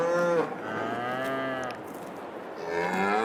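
Cows in Farming Simulator 22 moo several times in succession, the long, tonal calls overlapping and fading, with a brief lull before another moo begins.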